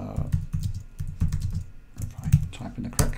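Close, fast typing on a computer keyboard as a command is entered, with irregular clusters of key clacks and a sharper keystroke near the end.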